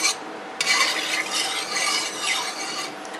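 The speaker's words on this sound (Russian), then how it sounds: "Вот, смешиваю." Filling for Egyptian-style stuffed peppers, with tomato paste added, is stirred in a pot: a steady run of wet scraping strokes that rise and fall, close and clear, with no talk.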